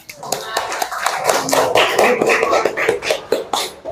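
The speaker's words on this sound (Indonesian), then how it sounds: "berikan tepuk tangan untuk kelompok 3" Students in a junior high classroom clap for a student group, a dense, close patter of many hands lasting several seconds with faint voices mixed in.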